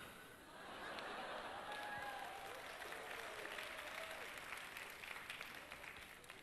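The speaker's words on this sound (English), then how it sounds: "Please welcome him with a big round of applause." Faint, distant conference audience applause swelling and sustaining for several seconds, a dense patter of clapping with some cheering.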